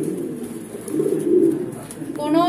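A Lahori pigeon coos in low, soft murmuring pulses close by, with a brief higher tone near the end.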